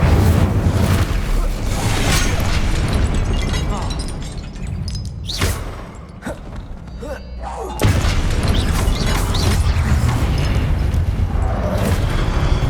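Incendio fire spell cast in the Hogwarts Legacy video game, loud bursting whooshes and booms during combat, with a sharp blast midway, a brief quieter lull, then dense fiery crackle and impacts resuming.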